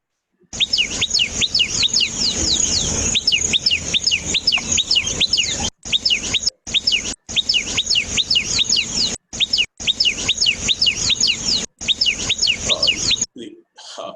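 A tailorbird calls in a loud, close series of sharp, repeated chirps that go on almost without a break, with a few short gaps. There is no talking.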